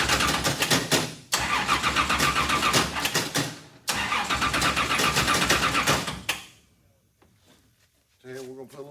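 Richard Petty race car engine on a new fuel system cranking and firing, running loud and close in two long rough bursts, then cutting out to near silence before a brief faint restart.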